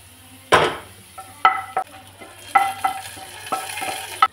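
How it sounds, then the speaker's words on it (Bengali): Chopped onion and garlic fry for masoor dal while a utensil strikes and scrapes the pan several times in irregular, close, ringing clinks over a faint sizzle. "পেঁয়াজটা একটু ভালো করে ভেজে নেব।"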